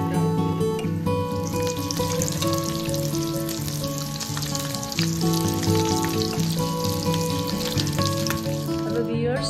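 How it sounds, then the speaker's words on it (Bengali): Hilsa fish chops fry in hot oil in a pan with a dense, continuous sizzle and crackle, close and loud throughout, while music plays underneath and no one speaks. "আমি চপগুলোকে ভেজে দিচ্ছি"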